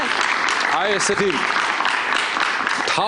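Studio audience at a late-night TV show applauding loudly and continuously, a dense wash of clapping with a voice talking over it.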